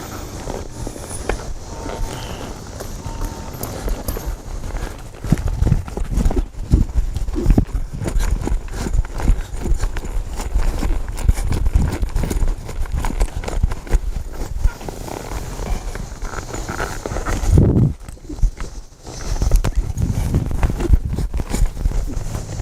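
A cutting horse works cattle in a pen, its hooves clip-clopping steadily and close throughout, with shifting footfalls and a brief flurry of quicker steps near the end, set against outdoor rumble and faint movement of the herd.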